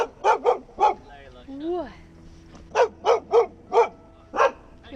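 A guard dog aboard a liveaboard boat barks in sharp bursts, two quick barks then one more, then a run of five steady barks, loud and close, with a brief spoken word between them.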